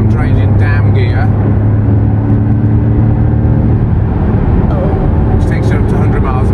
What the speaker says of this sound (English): listen, I'm changing down gear.